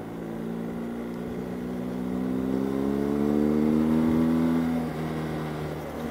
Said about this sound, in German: Das ganze Motorrad läuft anders.